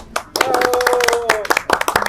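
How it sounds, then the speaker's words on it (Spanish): An audience at a Peruvian TV interview claps after the conversation, a dense burst of close applause with a sustained tone and voices mixed in. "Y nuevamente un aplauso"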